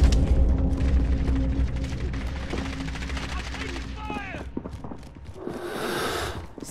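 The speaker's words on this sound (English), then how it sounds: "Oh, I'm getting sniped from somewhere." Sniper gunfire in a first-person shooter video game, heard as sharp shots amid dense game noise and bursts, with a rushing swell near the end; players talk over it.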